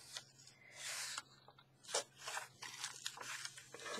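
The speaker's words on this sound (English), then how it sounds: "now I need to cut this one off" Scissors cutting paper for a postcard envelope, close and quiet, several crisp snipping and rustling strokes in quick succession with brief pauses between them.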